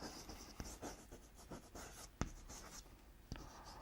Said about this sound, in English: Let me write it.